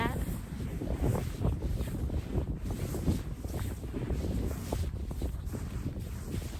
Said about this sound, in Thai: เสียงสายลม